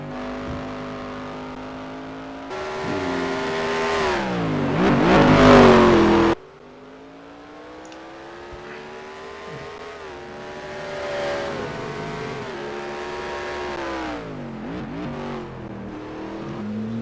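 Race cars in a racing video game set at the Bahrain circuit roar past one after another, engines revving and shifting pitch with a loud close pass, then further cars whining by more distantly.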